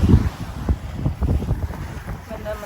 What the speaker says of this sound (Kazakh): Жел соғып тұр.